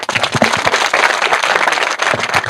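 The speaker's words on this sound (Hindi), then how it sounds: "भाई ग्रामवासियों को कहूँगा भाई एक बार ताली बजा दी जाए" Villagers at the Chulkana cow shelter clap together in a lively round of applause, many sharp hand claps overlapping into a loud, dense patter that carries on steadily throughout.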